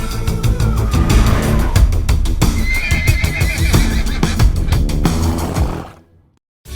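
Loud, close horse neighing and whinnying with rough, breathy bursts that fills most of the clip over a dense bed of other noise, then cuts off abruptly to near silence just before the end.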